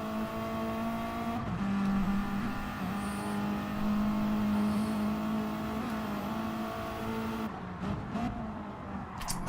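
A small Audi TT race car engine on a time attack lap in a racing game around Le Mans, holding a steady high drone at sustained revs, shifting pitch near the end as it changes gear.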